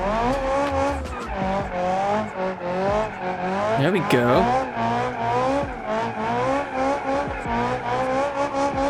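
A roughly 600-horsepower drift car slides around a roundabout, its engine screaming through rising and falling revs while the tires squeal in long, loud skids. Someone speaks briefly over the noise.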